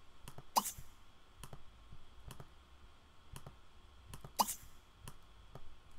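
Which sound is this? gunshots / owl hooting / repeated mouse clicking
repeated mouse clicking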